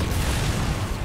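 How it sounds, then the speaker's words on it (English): A loud, sustained rumbling boom with heavy low-end crackle fills the whole stretch, an explosion in the video game Sunset Overdrive. "Explosion!"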